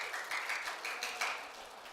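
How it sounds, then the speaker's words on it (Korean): Congregation in a church service clapping together to congratulate a newly married couple, a short burst of broadband applause that fades gently over two seconds, with no voices over it. "그래서 축하한다고 박수 한번 할까요?"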